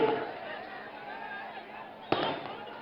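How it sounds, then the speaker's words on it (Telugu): Outdoor crowd chatter murmurs steadily at a political roadshow in Mancherial, then a sharp firecracker bang bursts out near the end, followed by brief crackling. "ఎవరో టపాకాయలు బంద్ చేయండి."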